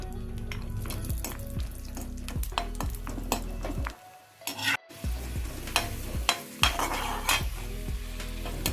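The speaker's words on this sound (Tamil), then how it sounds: "முந்திரி திராட்சை ப்ரௌன் கலரில் ஆனதோட நம்ம ஃப்ரை பண்ணி எடுத்துட வேண்டியது தான்." Cashews and raisins sizzle in ghee for bread halwa while a spoon stirs and clinks against the pan in a busy, uneven rhythm, with a brief near-silent gap midway.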